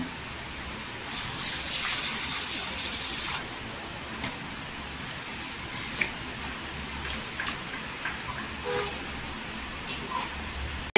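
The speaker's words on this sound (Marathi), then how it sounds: "1 ते 2 पाण्याने स्वच्छ धुवायची डाळ।" Water gushes from a tap for a couple of seconds while masoor and moong dal are rinsed, followed by quieter sloshing and faint splashes as the lentils are swirled and washed.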